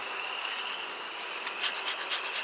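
Honey bees in a hive hum and buzz as smoke is puffed over them, a faint, steady drone with soft flickers of wingbeat close by, and nobody speaking.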